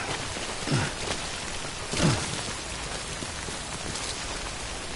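Steady rain falls outdoors, a continuous even hiss of drops on surfaces at moderate level, with a couple of faint brief swells along the way.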